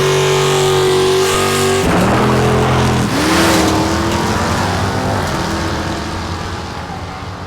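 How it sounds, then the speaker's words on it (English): Race car engine roaring loud and close, with a rising pitched whine that shifts as it revs up, then a broad throaty rumble that slowly fades, alone without talk. "It's all kind of boring until that motor starts up."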